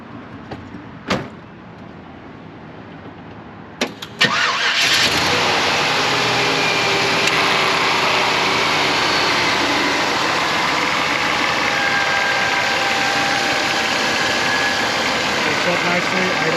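A 1998 GMC Sierra 2500 4x4 pickup with a Vortec 454 V8 gives a few clicks, then cranks and fires, and the engine settles into a steady, smooth idle heard up close.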